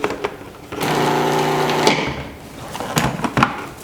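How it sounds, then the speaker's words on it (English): A food processor chops a garlic clove for hummus, its motor whirring steadily for about a second, with brief clicks and clatter before and after. "I'm going to put my garlic clove in here and just chop it up."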